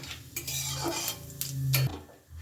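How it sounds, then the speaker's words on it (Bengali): Whole cumin tempering is stirred in hot mustard oil in a wok for a cauliflower samosa filling, a brief run of metal spoon scrapes and clinks over a low sizzle. "এখন আমি তেলের মধ্যে দিয়ে দেব সামান্য একটু গোটা জিরে ফোড়নটাকে একটু নেড়ে নেব"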